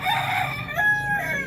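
A native darag crossbreed rooster crows once in a backyard farm, a loud, close, rising and falling cock-a-doodle-doo lasting just over a second.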